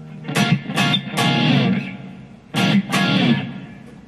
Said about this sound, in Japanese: いいですね、ホールリバーブ。